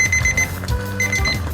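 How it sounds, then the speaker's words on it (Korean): A kitchen timer set for boiling ramen in an electric kettle rings with rapid repeated electronic beeps in two bursts, close and steady, with no voices. "바로 라면 끓이는 타이머 시간"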